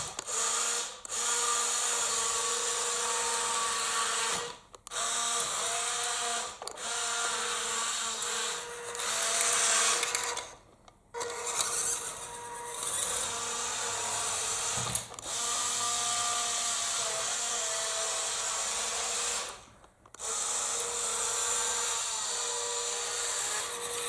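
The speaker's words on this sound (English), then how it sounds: "the motor doesn't seem to be geared too badly" The electric motor of a Heng Long 1/16-scale RC military truck runs with a steady whirring, gear-driven mechanical whine, close and continuous for long stretches, cutting out briefly several times between runs.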